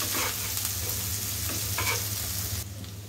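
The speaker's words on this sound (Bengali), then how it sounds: "এখন আমি সুন্দর করে একটু মশলাটা কষিয়ে নিব" Onions and spice masala sauté in a pan, a dense close sizzle with brisk stirring scrapes over a steady low hum, the frying easing off just before the end.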